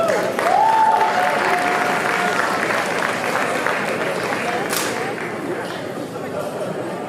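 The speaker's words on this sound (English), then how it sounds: "A round of applause, please." A crowd at Houston's Africa Day celebration gives a sustained round of applause, dense clapping with whistles and shouts, loud at first then easing slightly, with a sharp whoop near the middle.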